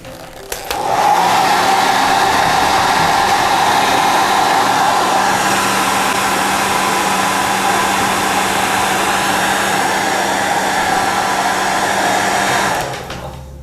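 A hair dryer blows steadily at close range to dry craft paint, a loud continuous whooshing drone that switches on abruptly near the start and cuts off near the end.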